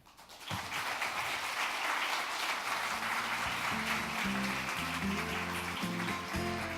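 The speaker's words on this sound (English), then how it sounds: "please give him another round of big applause" Applause after a vice minister's speech at a conference on growth in Asia, a sustained wash of many hands clapping that starts abruptly and holds steady, with stately music rising underneath.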